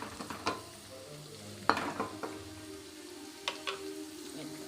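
Ivy gourd frying in a pan, a soft constant sizzle broken by several distinct clinks and scrapes of a stirring spoon, close but quiet, with no talking.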